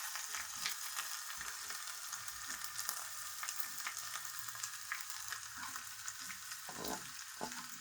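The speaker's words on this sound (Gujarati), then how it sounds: "હવે આપણે સારી રીતે હલાવી" Crushed green pigeon peas being stirred in a hot pan: a steady sizzle runs throughout with repeated scraping stir strokes, close and alone, no voices.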